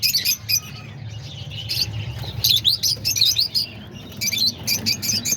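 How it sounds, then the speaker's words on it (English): Peach-faced lovebirds in an outdoor aviary give rapid, shrill chirps and squeaky calls in overlapping bursts, loud and near, with a low background hum beneath. "Now out here on the peach lovebirds, the peach face, let's check them out."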